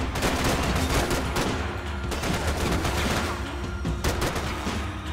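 Dense gunfire from the Max Payne 3 video game crackles in rapid, overlapping volleys of loud shots, sustained throughout with no pause.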